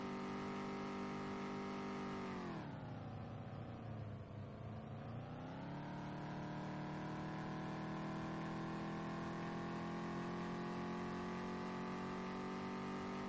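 A 1971 Chevy in Farming Simulator drives with a steady engine drone, its pitch dipping briefly as it slows, then climbing and holding again under steady acceleration, loud and close throughout with no talking.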